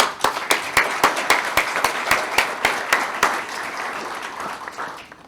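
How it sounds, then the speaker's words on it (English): A conference audience in London applauds to welcome a presenter, a crowd of hands clapping steadily with sharp rhythmic accents before the applause thins out and fades. "we're gonna applaud to welcome Kevin to give us the presentation"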